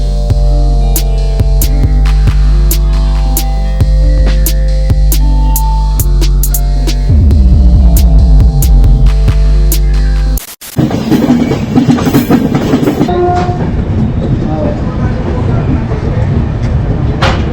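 Pushpak Express on Indian Railway, the Lucknow to Mumbai service running late: a loud steady hum and throb of the moving train, a rhythmic rattle partway through, then a brief cut and busier, clattering sound with voices in the carriage.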